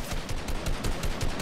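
Rapid, repeated gunfire bursts ring out in a Fortnite match, including a sniper rifle shot, loud and dense across the whole stretch with no talking.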